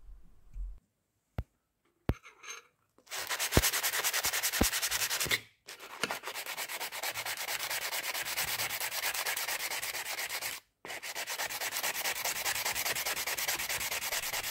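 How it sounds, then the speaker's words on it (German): Sandpaper scrubs rust off a metal surface in steady, loud abrasive strokes, with short pauses and a few sharp clicks near the start. "Vielleicht mal mit dem Schleifpapier die Oberfläche abschmirgeln."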